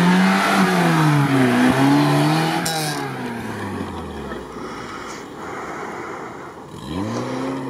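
A Lada Niva off-road car on 31-inch Silverstone tires with locking differentials revs its engine hard, pitch rising and falling through repeated surges, then easing before a fresh rev near the end, close and loud.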